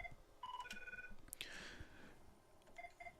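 A telephone rings during a comedy show, with short electronic ring tones repeating in brief bursts over a murmuring room and a burst of broad noise midway.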